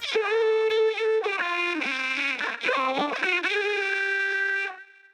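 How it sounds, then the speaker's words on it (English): Splatoon-style vocals processed through a VocalSynth 2 vocoder, a loud, buzzy, robotic singing line with sliding pitches and bright harmonics over about five seconds, fading at the end. "The vocoder effect sounds like this."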